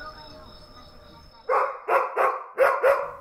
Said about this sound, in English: his neighbor's dog barking and barking